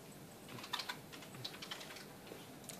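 Typing a message on a keyboard for an Android USB-to-serial development kit demo with a Nexus 7 tablet: soft, fast clusters of light key clicks, faint and close, with no talking.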